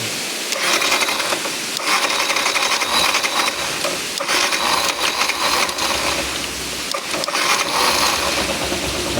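A small engine runs steadily after carburetor cleaning and tuning, a loud, busy, rattling idle that holds throughout with slight rises and dips in speed and no talk.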